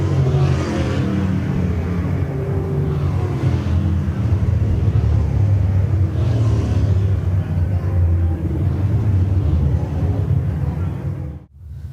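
Super late model race cars roar around the dirt oval at Shelby County Speedway, with a loud, continuous engine drone rising and falling as the cars pass close by, which cuts off abruptly at the end.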